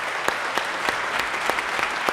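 An audience applauds military personnel and first responders at a university national security lecture, a steady roomful of clapping with a few sharper claps standing out, sustained throughout without talk.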